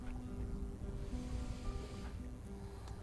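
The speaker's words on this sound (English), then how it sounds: "rocking in these little waves, feeling the breeze on the skin, listening to the sound of the water" Small waves lap softly against the hull of a boat out on the water, a faint, continuous low wash with a steady background hum and a light breeze.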